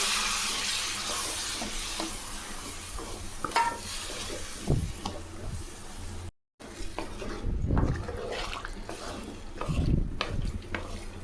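Eggplant and spices sizzle steadily in a hot oiled pan while a utensil stirs and scrapes now and then, with a short break partway through.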